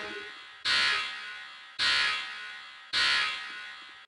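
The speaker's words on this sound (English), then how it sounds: "And the alarm plays." An alarm sounds aboard a sinking ship in a Roblox game: three loud, evenly spaced buzzing blasts, each starting abruptly and fading slightly before a short gap.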